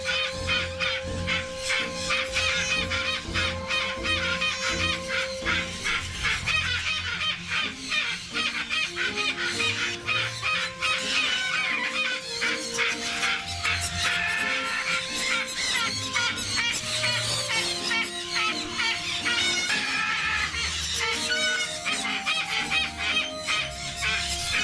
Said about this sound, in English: This is a pair of blue-eyed Triton cockatoos.